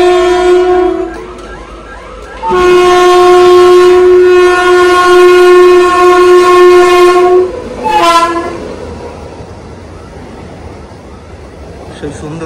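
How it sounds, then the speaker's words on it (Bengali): West Bengal's first AC local train, an ICF unit passing Payradanga station toward Ranaghat, sounds a loud sustained multi-tone horn in two long blasts, then rumbles past nearby with rolling wheel noise. "পশ্চিমবঙ্গের প্রথম AC local Payradanga rail station cross করে রানাঘাটের দিকে যাচ্ছে"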